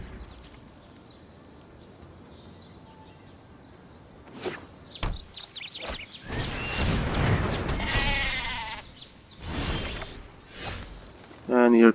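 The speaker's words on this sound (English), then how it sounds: "And here comes the annoying goat." An animated goat creature in Magic The Gathering Arena lets out bleats among clattering game effects and thumps, with a player talking over the sounds.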